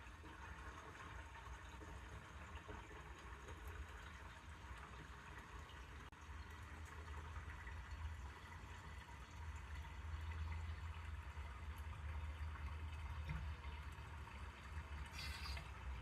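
Cider from a demijohn flows into bottles as a steady, close liquid pour that swells near the end as the vessel is tilted to drain the last of it, with no talk over it.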